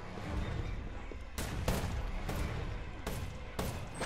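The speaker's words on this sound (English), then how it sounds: "We're just gonna ignore those shots" Gunfire in the video game Predator Hunting Grounds, a handful of sharp shots at irregular intervals over a constant dense rumble of game ambience, moderately distant.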